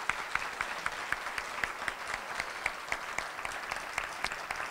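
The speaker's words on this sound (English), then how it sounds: "please give the candidates for mayor a round of applause" A crowd applauds steadily, the claps fairly soft and even, continuing without a break.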